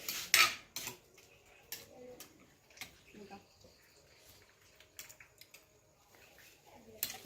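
Clinks and taps of utensils against a bowl as food is added while making Isan-style fish dip with catfish, a few sharp clatters at the start and scattered light knocks after, with faint talk in the background.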